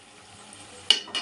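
Mushrooms and green chilies drop into hot oil cooked down with ginger and garlic for a mushroom curry, giving two short, bright sizzling bursts after a quiet stretch.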